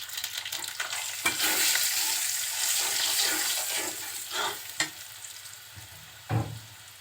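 Turmeric going into hot oil in a pan, with a loud continuous sizzle and frying hiss and a few sharp clinks from stirring toward the end.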